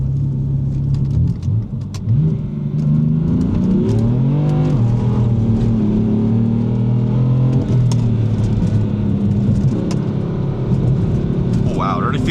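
A BMW F80 M3 with a braced differential drives under load, its engine droning loud and close and rising and falling in pitch as it accelerates through turns.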